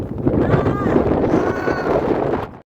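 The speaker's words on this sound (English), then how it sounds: "it was incredibly windy that just was bitter and cold" Strong, bitterly cold wind at Remarkable Rock on Kangaroo Island, Australia, roaring and buffeting the microphone as a loud, continuous rush that cuts off abruptly at the end.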